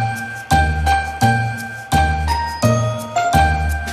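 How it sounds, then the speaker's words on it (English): Bright jingling bells and chimes play a festive Christmas-style intro jingle, with a steady run of ringing strikes about every half second, loud and clear with no talking. "like jingle bells, here's a cool intro"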